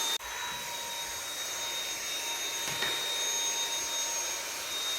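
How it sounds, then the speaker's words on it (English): A Dyson V7 cordless vacuum running on a Milwaukee battery adapter switches on abruptly and holds a loud, steady high-pitched whine and airflow roar, with a faint bump partway through and no talking. "Okay, let's vacuum."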